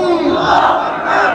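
A large crowd at a religious gathering roars a chanted slogan together, loud, dense and sustained, a single massed shout with no separate voices standing out.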